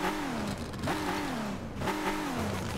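Virtual W16 8.0 engine in Car Parking Multiplayer revving hard, with rising and falling pitch sweeps across two throttle pulls, loud and steady with no talk over it.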